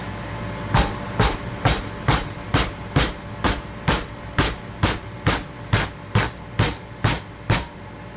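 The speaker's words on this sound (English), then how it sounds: "we're going to bend it over. Hopefully this aluminum doesn't break or rip or anything." Rubber mallet striking aluminum sheet being bent over on a trailer, about fifteen evenly spaced dull thuds roughly every half second, close and fairly loud against steady background hum.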